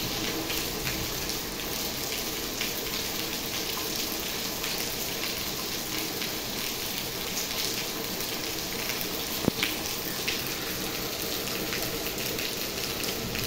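First rain of the season, mixed with hail, pours in a steady, dense hiss with no pauses, and a single sharp tap stands out near the end.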